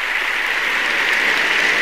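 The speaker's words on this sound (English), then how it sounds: "you can clap for St. Elsewhere" An audience applauds as a dense, steady wash of many hands clapping together, holding at an even loudness for about two seconds with no voices above it.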